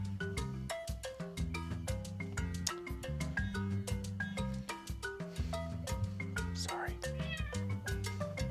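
A pet cat meows in a repeated, insistent pattern, its cries mixed with steady tonal music and close talking voices.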